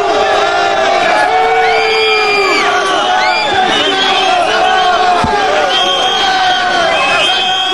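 Angry farmers at an agriculture fair jeer and shout, a loud, dense crowd of overlapping voices with rising and falling yells and whoops, close and continuous.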